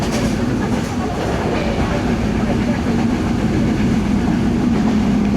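Akota Express passenger train running on its rails, a loud steady rumble with continuous clatter of the carriage heard from inside, constant throughout with no break.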